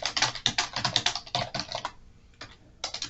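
Rapid clatter of keys typed on a computer keyboard, close and steady in quick bursts, with a short pause before the typing resumes; no talking.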